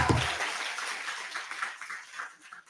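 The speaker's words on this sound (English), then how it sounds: "Let's give another round of applause for Janani Sharma" Applause for performer Janani Sharma at a wellness conference hall in Fremont, California, a short burst of clapping from the audience that starts strong after a brief thump and fades steadily away.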